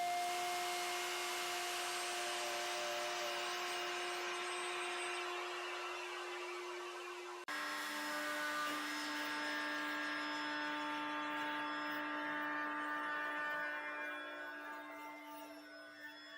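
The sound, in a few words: router shaping Honduran mahogany guitar body blank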